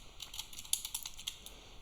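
Someone types on a computer keyboard, a quick irregular run of light clicking keystrokes heard close and alone.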